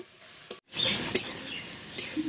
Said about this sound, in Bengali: জল দিয়ে ভালো করে মশলা কষিয়ে নেব।